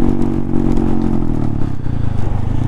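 A Honda Monkey 125 motorcycle climbing a hill, its small single-cylinder engine droning steadily and close, with a continuous rough, buzzing note and some clattering under wind noise; no talking.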